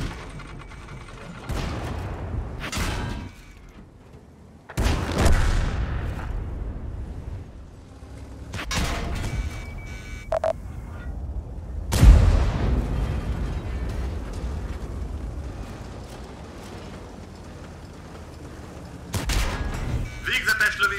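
Gunshots and explosive bursts during a Hungarian game match, loud separate blasts spread across the stretch with noisy rumble between them, and a voice speaks over part of it.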